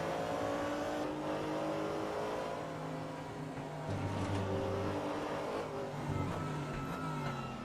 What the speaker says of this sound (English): Let's listen to some V8. Some American muscle.